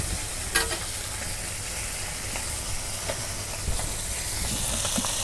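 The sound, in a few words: small river fish frying in hot oil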